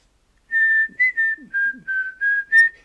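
Someone whistles a short tune of about seven clear, high notes in quick succession, close and alone in near silence.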